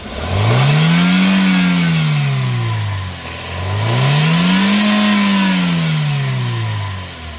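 A Toyota Yaris engine is revved twice by pressing the accelerator, each time swelling from idle to a loud, close whine and falling back, with no talk over it.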